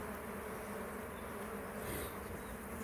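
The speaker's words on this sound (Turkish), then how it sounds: "Şimdi bu o kovan, ikinci kovandaki şöyle bir ne durumda şimdi bir bakalım." Honey bees buzz at an opened beehive during a hive inspection, making a dense, steady, close swarming drone that fills the whole moment without any talk.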